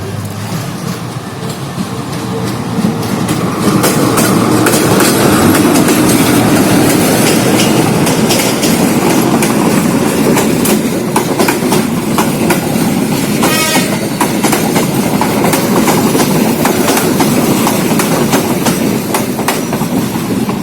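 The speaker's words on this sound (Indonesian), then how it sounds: "Barusan masuk kereta api jurusan Padang menuju stasiun" A train bound for Padang rumbles steadily and loudly into Pariaman station, wheels clattering over the rails with a brief high squeal partway through.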